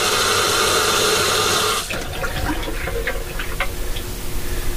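Waste water draining from a bathroom sink, starting as a loud continuous rush that cuts off sharply, then fading into gurgles, trickles and drips.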